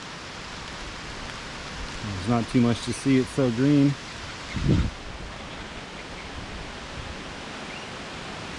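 Steady rain hisses through a green wooded trail in Asbury Woods, Erie, Pennsylvania, an even wash of noise from start to finish while a person speaks briefly near the middle.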